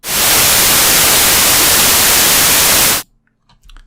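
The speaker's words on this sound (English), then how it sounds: "And this is uniform white noise." Uniform white noise plays loud and steady for about three seconds, a dense hiss spread evenly across the whole range, then cuts off abruptly into near silence.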